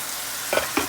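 Ginger garlic paste sizzles in a hot pan while a methi and potato curry is cooked, giving a steady close hiss throughout, broken by two brief clinking stirring bursts near the end, with no talking.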